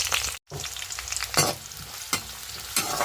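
Onion, green chili and curry leaves fry in a pan with a steady sizzle, broken by a few scraping stirs of a spatula, close by and alone after a brief silent gap near the start.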